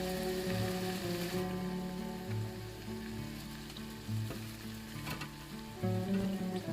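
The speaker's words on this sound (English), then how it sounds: "add your vegetables and cook for another 10 minutes" Vegetables cook in a huckleberry (njama njama) stew, giving a steady bubbling sizzle with occasional louder bursts, accompanied by a faint tonal hum in the background.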